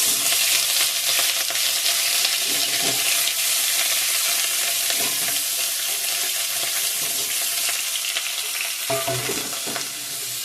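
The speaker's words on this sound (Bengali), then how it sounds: "এখন আলু ফুলকপিগুলো একটু ভেজে নিব" Potato and cauliflower pieces fry in a pan with a steady, dense sizzle and crackle that runs unbroken throughout, with no talking.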